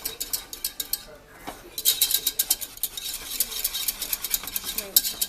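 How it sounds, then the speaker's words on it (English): A spoon stirs cheese into a warm homemade jalapeno cheese sauce, producing rhythmic scraping and clinking against the pot in quick repeated strokes, with a brief pause near the start and a voice faintly underneath. "we're going to remove this from the heat, and we're going to stir in the cheese"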